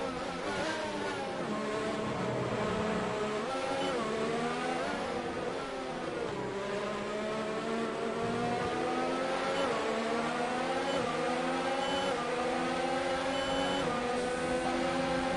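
A Williams Formula 1 car engine in F1 2019 screams steadily and loudly at high revs throughout, its pitch rising and dipping with gear changes and throttle.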